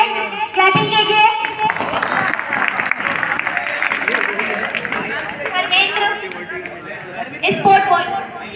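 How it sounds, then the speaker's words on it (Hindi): Students applauding at a Class 12 farewell party at a senior secondary school, with bursts of clapping mixed with crowd chatter and an announcer's voice over a loudspeaker. "तो तेज तालियां बजाइए"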